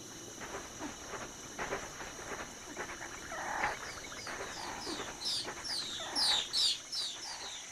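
Small early feathered birds mob an intruding pterosaur, giving repeated shrill chirps and squawks that build toward the end, over a faint rustling background.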